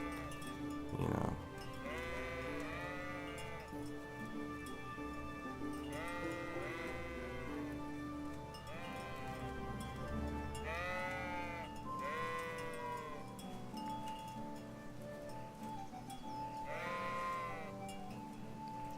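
Sheep bleat in the medieval game Kingdom Come Deliverance, several wavering calls spread across the scene at moderate distance over a continuous ambient bed.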